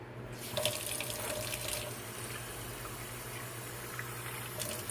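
Kitchen tap running steadily as water is drawn into a container, a continuous close hiss with a brief louder splash near the start and no talk.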